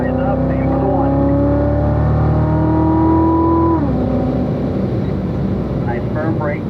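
A car accelerating on track after an upshift into fourth gear at Spring Mountain Motorsports Park, its engine drone rising steadily in pitch, then dropping sharply with the shift before building again, loud and close under an instructor's voice.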